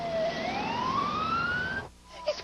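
An ambulance siren wails in a rising sweep, fairly loud and alone, then cuts off abruptly near the end.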